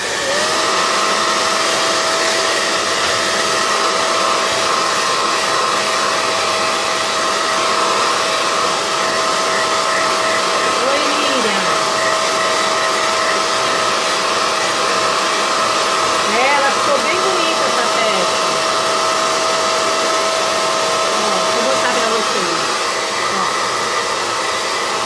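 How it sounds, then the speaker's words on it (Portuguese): A hair dryer blows steadily on a handmade faux-slatted keychain craft piece, a loud continuous whooshing roar that runs unbroken the whole time, with faint sounds of movement underneath. "deixa eu dar uma secadinha aqui com o secador"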